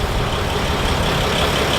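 A Mercedes Sprinter ambulance engine idles nearby, giving a steady, loud, unbroken rumble with no change in pitch.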